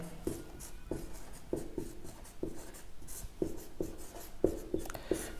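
A teacher writes a section formula on a board during a coordinate geometry lesson, producing a steady run of short scratchy strokes and taps close by with no talking.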